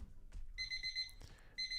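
Electronic timer beeping in short, evenly spaced bursts of high, bright tones, close and clear against a quiet room, pausing briefly before resuming.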